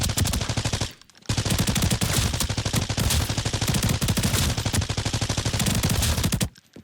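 Rapid automatic weapon fire in the shooter game Arena Breakout Infinite, a steady stream of loud, fast shots from a 750 RPM gun, broken by one short pause near the start and ending abruptly.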